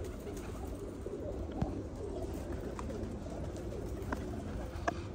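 Pigeons kept for sale coo steadily and close by, soft low calls repeating through a constant background murmur, with no talking.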